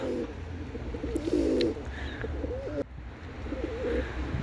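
Tumbler pigeons coo steadily in low, throaty rolling phrases, several birds close by, with a faint outdoor background.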